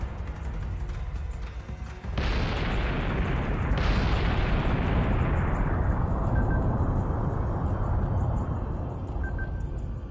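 Munitions firing and exploding in the space combat game Battlestar Galactica Deadlock: two heavy booming blasts a second or so apart, each trailing into a long rumbling decay over a constant low drone.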